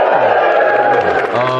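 A TV studio audience cheers and whoops loudly, a thick burst of raised voices and hollering that stays strong throughout and sits close and prominent.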